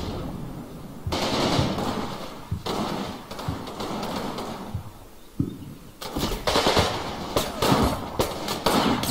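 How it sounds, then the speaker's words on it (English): Heavy machine gun firing in the Combat Mission Red Thunder war game, repeated rattling bursts of rapid shots with dull thuds between, fairly loud and continuous across the scene. "we finally found it, and yeah, it's a heavy machine gun"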